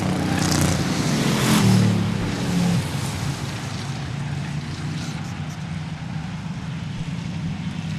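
Pure Stock race cars roar past at Seekonk Speedway, a loud engine surge that builds and then settles into a steady, more distant field of engines droning around the track.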